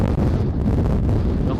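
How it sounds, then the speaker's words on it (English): Strong wind at about 4,850 metres elevation on a road trip into Bolivia, a loud continuous roar buffeting the microphone with rumbling low gusts, alone without talk. "so windy."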